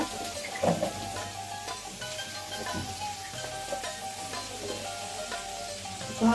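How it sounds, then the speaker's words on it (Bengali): Potatoes and snake gourd frying in oil in a pan, a steady crackling sizzle throughout with a couple of brief stirring knocks. "এখন আমি আলু আর এতে চিচিঙ্গাগুলো ভেজে নিচ্ছি"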